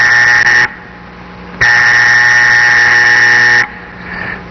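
An electric buzzer switched by light falling on a photoelectric cell sounds in loud, harsh blasts: a short burst, a pause, then a longer sustained drone that cuts off, followed by a faint brief flicker.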